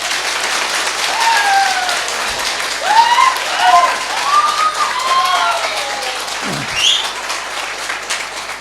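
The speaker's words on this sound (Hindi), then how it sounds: "एक बार जोर से ताली बजा दीजिए" Audience applause at a church seminar in Ranchi, a broad steady wash of clapping running throughout, with whistle-like tones and a few voices rising over it.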